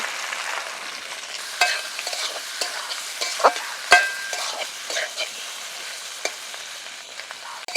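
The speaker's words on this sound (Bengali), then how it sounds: "এই আদা আর কাঁচা লঙ্কাটা ভেজে নেব আর এখন এর মধ্যে দিয়ে দিচ্ছি এই সিদ্ধ করা আলুটা" Boiled potatoes tossed with ginger and green chilli in a hot pan over a clay stove, a steady soft sizzle broken by scattered scraping clicks of a spatula, close and alone without talk.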